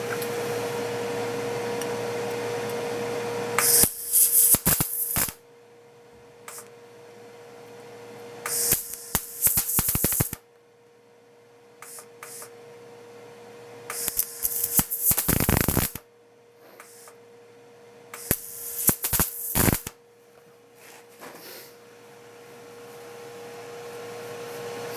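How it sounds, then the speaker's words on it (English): A welder lays short tack welds on thin sheet metal, producing several separate bursts of harsh crackling arc noise, each lasting one to two seconds, with quiet gaps between them. "I will use technique of making like tack welds and filling the gaps between them."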